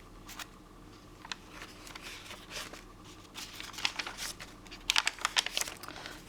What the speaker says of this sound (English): There's some more of the greaseproof paper that I used to paint the eggs on. I just love the texture and the sound of it.